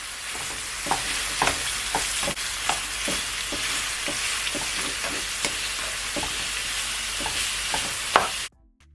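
Minced ground beef browns in a pan on medium-high heat for Jamaican beef patty taco filling: a loud, steady sizzle throughout, punctuated by repeated scraping stirs, with no talk, before cutting off abruptly at the end.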